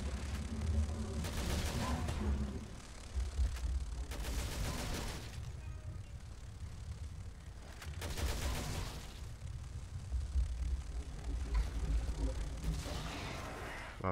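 Gunfire in Resident Evil Revelations 2 comes in repeated loud bursts of shots separated by quieter gaps.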